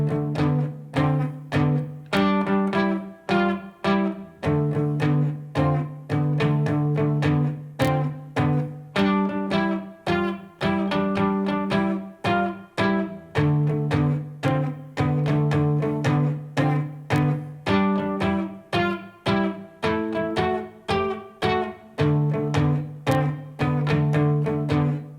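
An electric guitar plays the verse chords of a song in a steady, relatively slow rock-and-roll rhythm, with a repeated chugging pattern that shifts between a few chords and sounds close and clear, with no voice.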